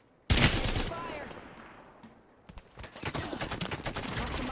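Gunfire in the video game Apex Legends: a sudden loud shot, then a sparse pause, then rapid bursts of automatic fire, near and harsh, with game voices mixed in.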